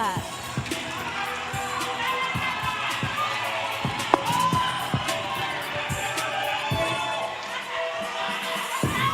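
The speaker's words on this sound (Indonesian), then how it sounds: "Kita beri tepuk tangan yang meriah untuk pasangan calon nomor urut 4" A hall audience at a televised Manado mayoral public debate applauds candidate pair number 4, with dense, steady clapping filling the whole stretch and crowd voices mixed in.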